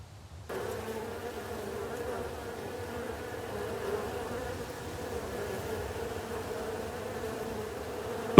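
Close, steady drone of a hornet or honeybee buzzing, starting abruptly and holding a continuous hum that stays fairly even in loudness before a sudden burst at the very end.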